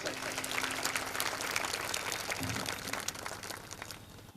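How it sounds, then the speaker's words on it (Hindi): Dense, continuous applause from a seated crowd at a school function welcoming a guest, filling the whole span at moderate loudness and tapering slightly toward the end. "जोरदार तालियों से इस्तकबाल कीजिए"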